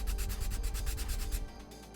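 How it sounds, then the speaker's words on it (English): A sanding block rubs back and forth over a plastic Gundam model kit part, about ten quick rhythmic close-up strokes before stopping. "Go in with the sanding block."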